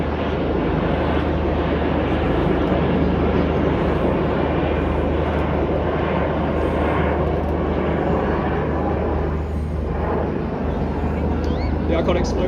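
Red Arrows Hawk jets roar overhead in formation, a continuous loud wash of engine noise that holds steady throughout, with faint voices underneath, at an air display in Clacton.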